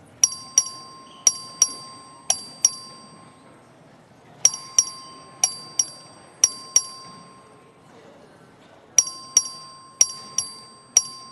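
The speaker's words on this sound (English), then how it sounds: "The clerk will ring the bell." Voting bell in the Texas House chamber, rung by the clerk: bright electric dings struck in quick groups of four or five, pausing and repeating three times, clear and ringing over a faint murmur of the chamber.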